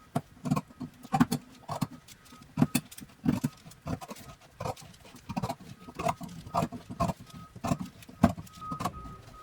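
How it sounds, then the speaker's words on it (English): Fabric scissors snip through four stacked fabric scraps at once, giving a run of short, crisp cutting crunches in an uneven rhythm, close by and moderately loud, with faint handling rustle between cuts. "So I'm just gonna cut all 4 at once."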